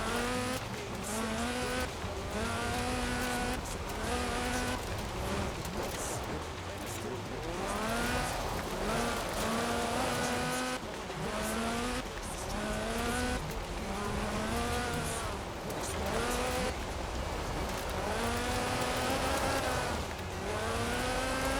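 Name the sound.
Lotus Sunbeam car driving, four-cylinder engine, Forza Horizon 4 video game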